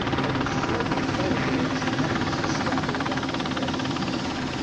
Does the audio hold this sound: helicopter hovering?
yes